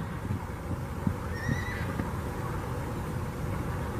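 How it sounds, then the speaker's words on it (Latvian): A horse that seems eager to join other horses lets out a brief, fairly distant whinny over constant outdoor rumble and noise, with a few soft thuds nearby. "Un te izskatās pēc zirga, kas ļoti grib pie citiem zirgiem."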